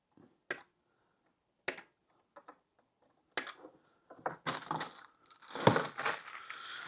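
Sharp, isolated snips of cutters biting through component leads inside a 1967 Fender Dual Showman amp, a few spaced clicks followed by a burst of louder rustling and clattering handling.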